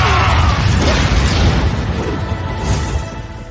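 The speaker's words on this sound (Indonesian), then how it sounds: "Ledakan besar terpicu dengan sangat keras" A large explosion in a Chinese donghua animation booms loud and close, a sustained low rumble with crackling bursts that slowly fades over a few seconds.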